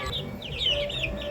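Chickens cluck and chirp softly at feeding time, a few faint calls over low background noise.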